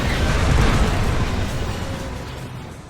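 A bomber blows up in Ace Combat Assault Horizon with a loud, sustained rumbling explosion that swells early and then slowly fades.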